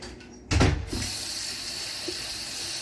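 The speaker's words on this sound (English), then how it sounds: "Why'd the coffee maker start dripping on its own?" A sudden burst of running liquid from a coffee maker dripping on its own, then a steady continuous stream of flowing water close by, with no voices.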